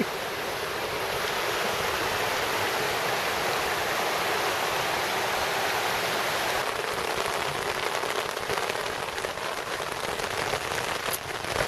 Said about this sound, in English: it's absolutely pouring down outside now. And like, just listen to the noise.